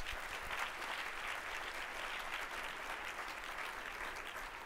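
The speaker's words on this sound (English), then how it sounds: "Give them a round of applause." An audience at a school prize announcement applauds in a steady, dense wash of clapping, quite faint and distant, lasting the whole stretch without a break.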